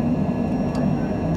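A Cessna Citation Longitude business jet roars steadily through its takeoff roll in a flight simulator, a continuous engine drone with a faint high whine above it.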